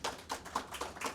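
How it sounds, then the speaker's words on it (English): Graduates clapping at a frontline supervisor training school graduation, a few distinct, evenly spaced claps from a small group, fairly near and moderately loud. "Clap it up for yourselves"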